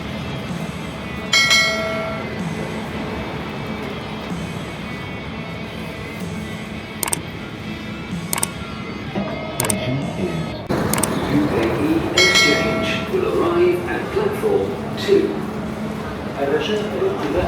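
Dubai Metro train at Union station, a steady low rumble of the rail car and station hum running throughout, with brief sharp clicks and rising bustle later, people talking over it.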